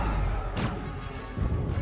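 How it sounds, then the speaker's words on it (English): Booming cannon-like shots from a Star Wars space battle in The Last Jedi, two heavy thuds about a second apart over a dense rumbling background of battle noise. "like these like cannon shots"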